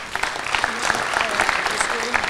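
Crowd applause at a hackathon closing ceremony welcoming a team to the stage, a dense, lively clapping that keeps up throughout, with voices and a few cheers mixed in.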